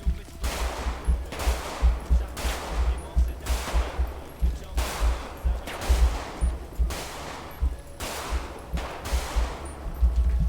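Rapid bursts of gunfire repeat steadily, with sharp cracks and booming low end, automatic weapons firing in GTA V roleplay.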